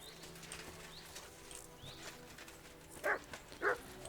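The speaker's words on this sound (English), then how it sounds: "What are you barking at?" In Kingdom Come Deliverance 2, a dog gives two sharp barks close together near the end, standing out over a quiet outdoor background of faint birds and ambient noise.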